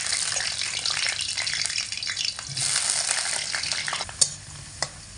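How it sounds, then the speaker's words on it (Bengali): Potato pieces frying in oil over medium heat, following pumpkin fried in the same oil, a dense steady sizzle with crackling spits and stirring scrapes, ending in two sharp clinks. "একই তেলের মধ্যে দিয়ে আলুগুলোকেও ভেজে নেব মিডিয়াম আঁচে রেখে।"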